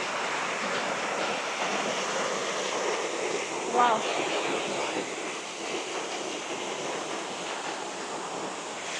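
Waterfall in a German nature spot, a steady broadband rush of falling water heard close and continuous, with a brief voice exclaiming once over it.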